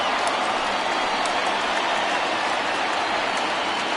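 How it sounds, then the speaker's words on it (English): A home crowd at a baseball game gives a steady, sustained ovation of dense applause and cheering for a departing starting pitcher, filling the space evenly from start to end. "he receives a nice ovation from this home crowd"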